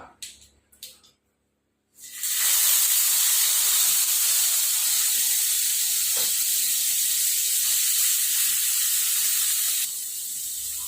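Onions dropped into a hot pan for soya curry, a loud hissing sizzle bursting in after a couple of seconds of quiet handling sounds, then holding steady and easing slightly near the end.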